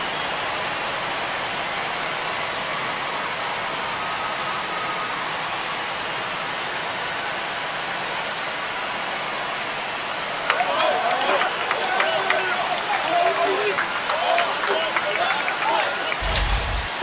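A large stadium crowd in MLB The Show 25 roars with a steady broad wash of cheering after a home run, swelling louder midway with clapping and whistles, as a commentator talks over it.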